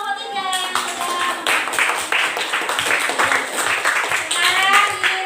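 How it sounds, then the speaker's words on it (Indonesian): A school class applauds a student group in uneven, close clapping with distinct individual claps, while voices talk over it. "tepuk tangan buat kelompok 3 yang sudah."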